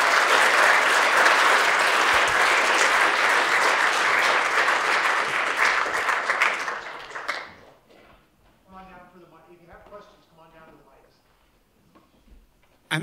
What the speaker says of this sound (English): I think we need to deserve a round of applause.